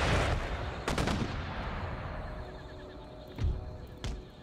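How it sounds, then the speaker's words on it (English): Cannon round shot fires in the Empire: Total War battle as several booming reports, some near and some distant, each trailing off over a dull rumbling battlefield background. "here comes the round shot"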